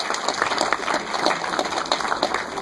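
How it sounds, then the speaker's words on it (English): Audience clapping at a film premiere during the Pan African Film Festival, steady dense applause filling the room for the whole stretch, with only faint voices. "If we could clap it up for them as they come."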